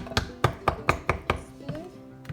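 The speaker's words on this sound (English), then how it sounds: "now I'm just gonna chop these up with my" Bananas chopped with a spoon against a bowl or board while making banana bread, about nine sharp, evenly spaced taps, close and clear, growing softer toward the end.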